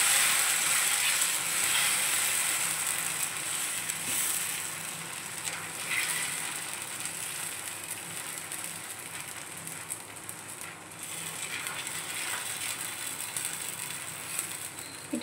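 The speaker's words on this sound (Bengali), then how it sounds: "এটার মধ্যে আগে একটু তেল দেবো, তারপরে আমি ব্যাটারটা দেবো।" Semolina (suji) cheela batter meets a hot oiled pan, giving a continuous soft sizzle and hiss with faint scraping, steady and close, easing slightly partway through, without speech.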